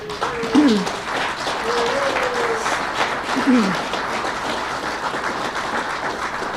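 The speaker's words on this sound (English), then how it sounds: "And you can clap for that." An audience applauds after a winning project is announced for a city development site, a steady wash of clapping throughout, with someone speaking briefly over it.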